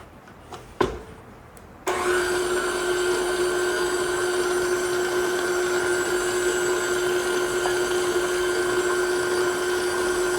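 After a couple of faint knocks, a kitchen mixer starts up and runs steadily, a loud constant motor whine blending thick orange butter cream chocolate filling, with no talk.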